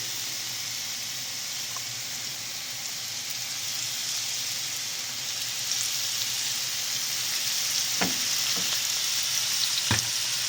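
Continuous loud sizzling and crackling of mushrooms frying in oil, with a few clanks of a utensil stirring near the end.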